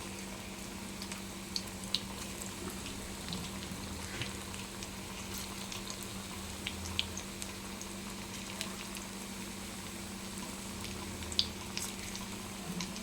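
Sweet corn fritters (bhaji) frying in oil, a quiet steady bubbling sizzle with scattered light crackles, heard close with no talking.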